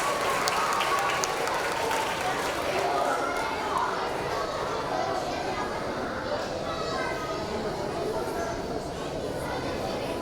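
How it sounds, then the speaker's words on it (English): Applause from a school audience of children and adults, dense and continuous crowd clapping mixed with cheering and chatter, loud and sustained from start to finish. "Give Amy a big round of applause."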